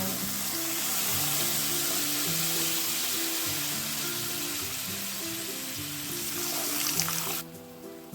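A loud, steady sizzle fills a pan as water hits hot oil with poppy seed paste, bubbling hard before cutting off abruptly near the end.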